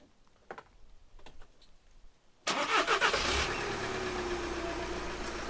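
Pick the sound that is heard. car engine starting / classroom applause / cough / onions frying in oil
car engine starting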